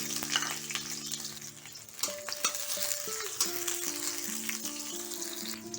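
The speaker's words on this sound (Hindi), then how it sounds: "ऑयल गर्म हो जाने के बाद हम ऐड करेंगे एक स्मॉल साइज अनियन और 3 से 4 ग्रीन चिली।" Small onion and three or four green chilies frying in hot mustard oil, a steady sizzle with scraping stir strokes from a utensil against the pan, heard up close and without talk.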